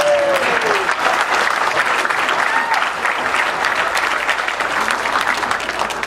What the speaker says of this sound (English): applause for Ashley